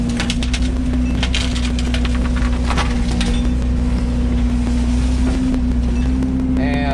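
A Yanmar VIO80 excavator's engine runs loud and steady while clearing logging slash, a constant close droning hum with wind buffeting the microphone throughout.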